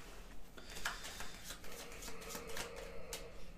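Playing cards are shuffled by hand during a magic-trick prediction, giving a run of soft, quick riffling and sliding bursts that repeat close by against quiet background hiss.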